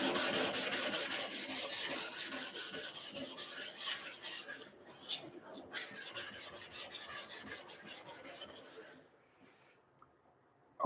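A diamond sharpening stone rubs back and forth across an NSK flattener, giving a gritty, rasping scrape in repeated strokes that fades and stops near the end.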